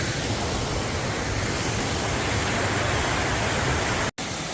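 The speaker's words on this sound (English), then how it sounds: "there's waterfall number 2" A waterfall near Machu Picchu rushes in a loud, steady roar, close and unbroken apart from one instant dropout near the end.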